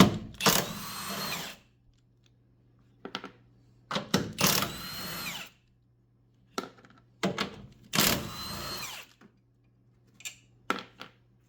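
Three 14 mm strut top nuts come off a 2007 Toyota Camry under a power tool: three long, loud whirring bursts, each with short blips of the trigger between them, close up with no talking.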